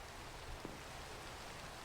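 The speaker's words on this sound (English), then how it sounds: "And it's raining." Faint, even rain hiss in Minecraft continues unbroken, with one tiny tap partway through and no voices.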